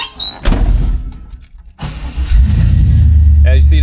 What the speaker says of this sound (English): As you see, the LS fires right up.